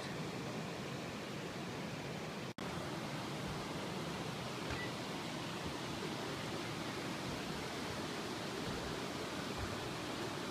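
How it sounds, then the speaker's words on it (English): Constant rushing water pours over a weir on the River Thames at a distance, a steady broadband roar without pauses or voices. "There's the water rushing over the weir,"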